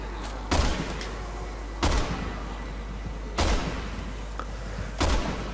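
Four heavy gunshots boom in Resident Evil 6, spaced about a second or more apart, each a loud blast with a deep low thump and a short ringing tail over quiet game ambience.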